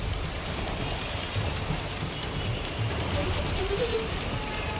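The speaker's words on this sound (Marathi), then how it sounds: "मुंबई आणि परिसरात तुफान पाऊस गेल्या काही तासांपासून ठिकठिकाणी बघायला मिळतो" Heavy monsoon rain falls in Mumbai as a dense, steady hiss of downpour, loud and continuous with no break.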